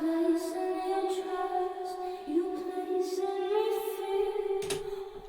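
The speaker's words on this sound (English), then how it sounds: "It's just the reverb" A reverb-only vocal channel gives a washed, sustained singing tone with soft wavering notes and no dry attack, steady and moderately quiet throughout.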